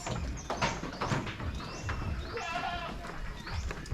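A goat gives a wavering bleat amid a busy, noisy farmyard background on a muddy goat farm in Cebu, Philippines, with other animal sounds nearby.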